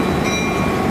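A Baltimore and Ohio EMD F7 diesel locomotive, number 722A, built in 1952, rumbles past loud and close with a steady roar and faint rail clatter.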